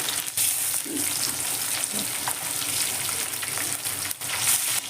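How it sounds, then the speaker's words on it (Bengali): Catla fish pieces fry in hot oil in a wok with a strong, close, steady sizzle and bubbling, broken by a couple of short clatters as the pieces are moved or turned. "এবার আমি মাছগুলো তেলের মধ্যে ছেড়ে দিচ্ছি দেখুন মাছগুলো আমার এক ফিট করে হয়ে গেছে আমি উল্টে দিচ্ছি"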